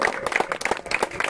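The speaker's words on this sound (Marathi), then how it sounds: "सर्वांनी जोरदार टाळ्या वाजवायच्या." Audience at a Republic Day Shri Morya Trophy cricket prize ceremony claps in a brief burst of dense, rapid applause, fairly close.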